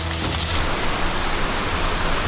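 Steady spring rain falls through a mountain forest in China, a dense, even hiss of drops that holds at the same level from start to finish, with no voices.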